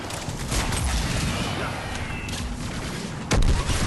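Rocket explosions and gunfire in the video game Mass Effect 3, with dense, continuous crackling and rumbling combat noise and a sharp, louder blast near the end, mixed with game effects.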